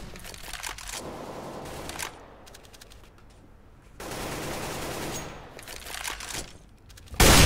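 Gunfire in Counter-Strike on the Mirage map, bursts of rapid shots in clusters separated by quieter game ambience, close and sharp, with no voices.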